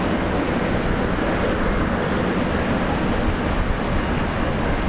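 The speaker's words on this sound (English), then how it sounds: "So that Jetstar about to take off, he'll have that nice departure." A Jetstar airliner starts its takeoff at Brisbane Airport, a steady broad jet roar holding at an even level throughout, fairly close and with no voices.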